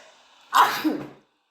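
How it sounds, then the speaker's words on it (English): A single loud, close sneeze bursts out after a quiet lead-in and tails off over about half a second, in a quiet indoor room during a relaxed Sunday reading session. "here we go with the sneezing again"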